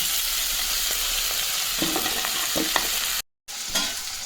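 Chicken roast frying in a pan, a constant sizzle with soft scraping from stirring and a brief dropout near the end.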